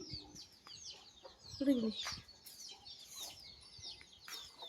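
A hen clucks among her newly hatched chicks as they follow her around a farm shed, with low, repeated clucks near the middle and thin high chick peeps scattered throughout over a noisy outdoor background.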